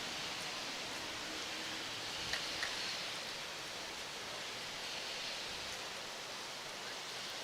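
Heavy rain pouring onto a street outside a lawn bowls venue makes a constant, even hiss, soft and unbroken, with a couple of faint knocks near the start.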